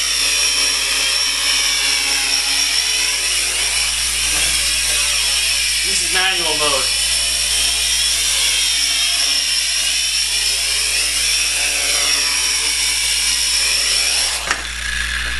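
A steady high-pitched mechanical whine from a small Dromida Ominus multirotor's rotors spinning fast runs throughout while someone talks over it.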